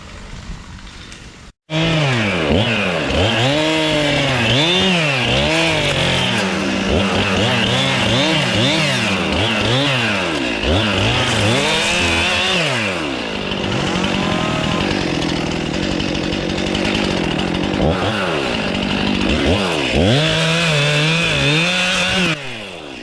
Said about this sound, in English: take the chainsaw and cut it